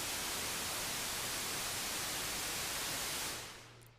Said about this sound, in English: White noise is this sound here.